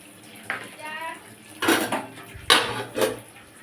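Plain tap-temperature water splashes into a metal cooking pot for a dal bora curry, with a brief pour followed by several clanks of utensils against the pot, close by, while someone speaks in between.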